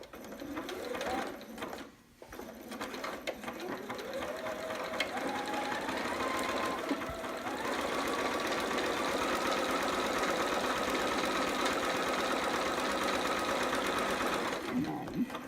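Sewing machine zigzag stitching a quarter-inch crotch seam on a romper, a steady close whirring drone that runs almost continuously after a brief pause near the start, with a person talking faintly over it.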